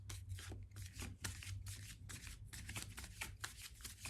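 Tarot cards being shuffled by hand in a soft, rhythmic series of riffling swishes and rubs, close and quiet with no voices.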